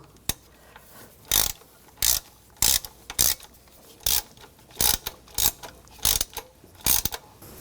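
A hand ratchet tightens a bracket bolt on a 1995-2004 Toyota Tacoma, loud close bursts of rapid clicking repeated about a dozen times in short strokes with brief pauses between.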